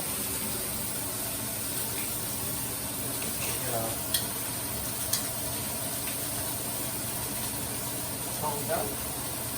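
Steaks searing in hot fat in a pan, a constant broad hiss of sizzling with a few sharp pops and spatters, close by, with faint talk in the background.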